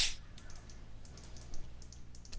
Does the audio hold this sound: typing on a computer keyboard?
yes